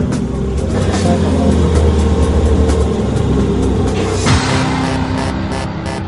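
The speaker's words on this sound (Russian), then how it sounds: "Последние метры, которые машина проделывает своим ходом." A car covers its final stretch under its own power ahead of a crash test, a loud, steady close engine and road rumble that swells and then shifts abruptly near the end.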